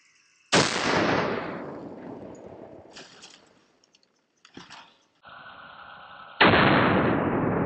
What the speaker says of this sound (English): the 50 cal is packing power. Again, we're at about 15 feet when we're shooting these things, and it's hitting hard.